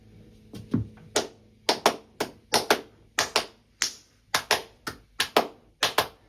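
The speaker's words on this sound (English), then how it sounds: "I'll clap it for you." Hands clap out a guitar strumming rhythm for Pink Floyd's Another Brick in the Wall, about a dozen crisp, close claps in an uneven syncopated pattern over six seconds, with no talking.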